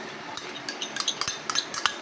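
Spoon stirring a homemade yogurt mixture in a container, quick close metallic clinks and scrapes tapping in an irregular rhythm, bright and distinct over a quiet background.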